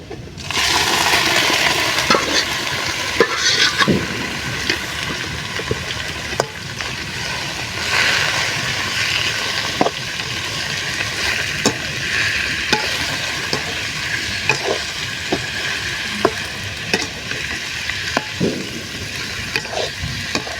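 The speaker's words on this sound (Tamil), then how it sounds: "அப்படியே கிண்டிப்போம்" Chicken pepper gravy sizzles and fries in a pan while being stirred, with a steady frying hiss broken by repeated sharp scrapes and clinks of the spoon against the pan.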